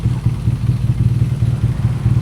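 A BMW motorcycle engine idling close by after being started, a steady rhythmic low thrum with faint mechanical clatter, heard without talk.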